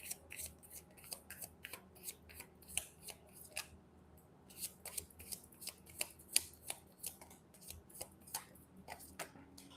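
Tarot cards being shuffled through a deck, a quiet run of soft, irregular papery riffles and snaps repeating throughout, close and fairly faint, with no voices.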